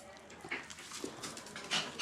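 A pet dog in a Cuban home in Guanabacoa makes soft whimpering and snuffling noises close by, a few brief yelps spread across the moment with faint room noise.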